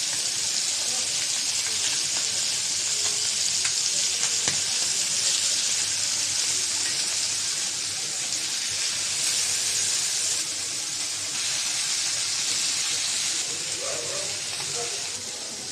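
Chanda fish fry in a pan, giving a loud, continuous hiss and sizzle of hot oil that holds steady throughout, close up, with faint talk underneath.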